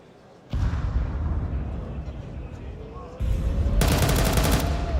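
Gunfire in a Counter-Strike esports match, the IEM finals between MOUZ and Vitality, including a big shot from ZywOo: dense automatic fire starting abruptly, then a louder second burst, with voices mixed in.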